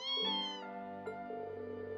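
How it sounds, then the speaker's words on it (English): Cats meowing in the Trails of Cold Steel 2 video game: a clear, drawn-out tonal meow followed by a second shorter meow, close and fairly loud with no talking over them. "there's an actual, like, Japanese translation matrix for cat sounds"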